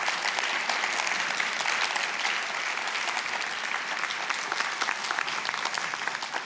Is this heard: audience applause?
yes